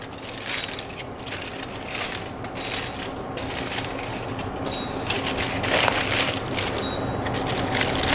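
Baked hake paupiettes are unwrapped by hand, giving close, continuous crackly rustling and crinkling that swells slightly toward the end.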